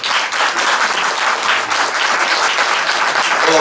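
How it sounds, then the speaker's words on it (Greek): Sustained audience applause fills a conference hall, dense steady clapping from many hands at even loudness throughout with no pauses. "Θα ήθελα ένα μεγάλο χειροκρότημα για τον Σταύρο του Λαρίου."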